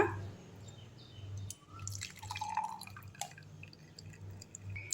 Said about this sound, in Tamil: இப்போ ஒரு டம்ளரில் வடிகட்டிடலாங்க